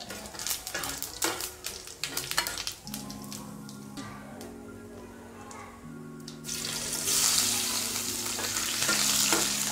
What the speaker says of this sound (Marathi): आपण आता फोडणी देऊ.